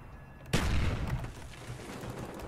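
A grenade explodes in the video game Black Ops 1, one sudden loud boom after brief quiet that tails off into a rumbling decay.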